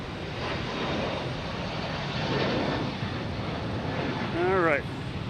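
A JetBlue airliner rumbles at Boston Logan Airport, a steady engine roar under a nearby voice, with a short warbling chirp toward the end.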